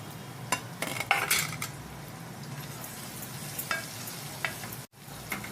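Ivy gourd and onion fry in a pan with a low steady sizzle, broken by a few sharp clinks and scrapes of a spoon against the pan.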